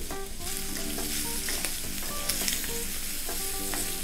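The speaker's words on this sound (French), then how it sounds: "Il faut mélanger souvent pour pas que ça colle." Sliced andouillette sausage fries in a pan with a steady, dense sizzle, while a utensil stirs it with light scrapes and taps, close and continuous.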